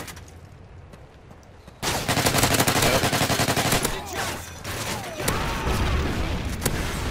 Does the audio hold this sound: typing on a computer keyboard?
no